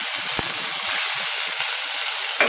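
Ground masala paste for field crab curry goes into hot oil with green chillies and curry leaves, giving a loud, steady hiss. There is a soft knock near the start and another near the end.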